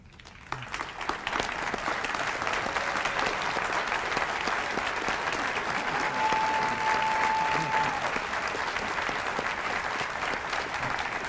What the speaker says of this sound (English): please stand and give one final round of applause to the class of 2018